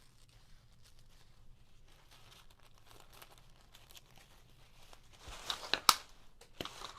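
Paper sheets being torn while making Christmas gift tags, a quiet crinkly rustle through most of the span that builds into a few louder, sharper tearing rips near the end.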